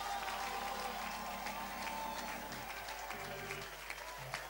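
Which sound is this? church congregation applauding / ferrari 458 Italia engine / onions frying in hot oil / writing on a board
church congregation applauding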